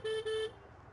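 Two short car horn honks in quick succession, fairly near, followed by a low rumble of idling traffic in a night traffic jam in Nabadwip.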